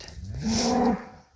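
A beef cow on a muddy calving farm gives a single drawn-out moo, loud and close, rising then holding steady before fading, with no talk over it.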